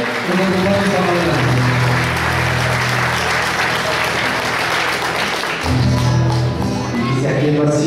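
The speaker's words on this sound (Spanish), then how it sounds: "Un aplauso para Giovanni también, que nos acompaña esta mañana." Church congregation applauding a visiting brother, Giovanni, during a Sunday morning service: steady dense clapping throughout, loud and close, with a voice speaking over it at the start and again near the end.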